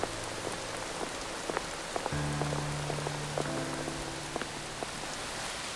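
Steady rain falls outdoors in stormy weather, a dense continuous patter with a few sharper drops standing out, and nobody talks.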